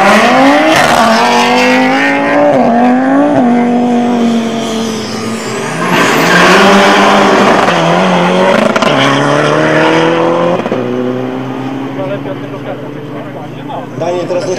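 A yellow Ferrari roars through a quarter-mile drag race at an airfield, its engine climbing through several gear changes with loud, rising revs, then fading as it pulls away.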